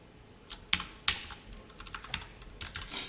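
Short burst of typing on a computer keyboard while writing code, a dozen or so crisp, irregular key clicks with brief pauses, close and alone with no talk.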